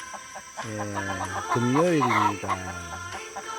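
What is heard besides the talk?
chickens crowing in the morning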